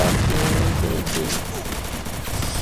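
Shotgun fire in the mobile battle game Free Fire comes as a dense, loud burst of gunshots that fills the short moment, with game effects mixed in beneath.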